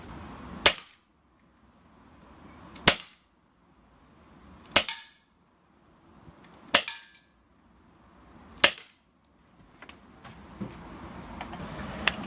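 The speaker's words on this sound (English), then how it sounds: "we'll fire another 5 rounds without the suppressor on" A Cybergun Colt 1911 airsoft pistol firing unsuppressed, five sharp, snappy cracks spaced about two seconds apart, each followed by a brief faint ticking and near silence between shots, with light background noise near the end.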